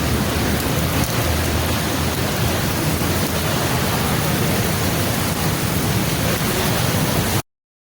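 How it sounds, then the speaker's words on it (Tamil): Heavy rain pours down during a flood in Dubai, a dense, steady roar of water striking surfaces that continues unbroken for several seconds, loud and close with no voices. "துவாயில் இதுவரைக்கும் காணாத வரலாறு காணாத மழை தொடர்ந்து மழை பெய்து கொண்டிருக்கிறது"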